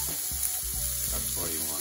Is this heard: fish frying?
yes